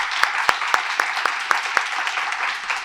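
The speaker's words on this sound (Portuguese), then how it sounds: "Uma salva de palmas para eles." Audience applause for award-winning teachers at an education event, a hall of clapping with several sharper individual claps standing out near the microphone in a loose rhythm over the steady crowd patter.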